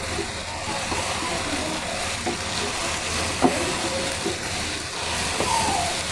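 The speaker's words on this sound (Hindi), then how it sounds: "मज़ीद 1 से 2 मिनट तक इसे भूनूँगी" Dhaba-style chicken keema with half-boiled peas fries in a pan, giving a faint, steady sizzle with a few soft clicks and scrapes from stirring.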